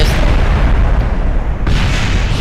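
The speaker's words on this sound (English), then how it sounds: "What if I do this? Explosion!" A loud explosion in the Kerbal Space Program video game: a dense, rumbling boom roars continuously, with a fresh burst of blast noise about two-thirds of the way through.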